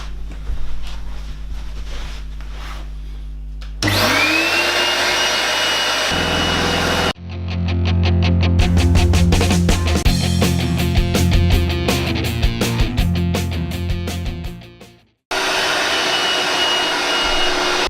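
A Rug Doctor carpet cleaner working on deeply ingrained carpet stains gives a loud, close motor whine that starts, shifts pitch and cuts off. A rougher, rattling suction stretch follows, then a break, and the roar returns.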